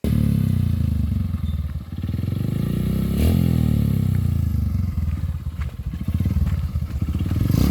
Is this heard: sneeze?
no